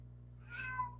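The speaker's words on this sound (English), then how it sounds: "I think she just meows like that." A young female cat in heat gives a single drawn-out meow, rising then falling, close and fairly soft over a steady low electrical hum.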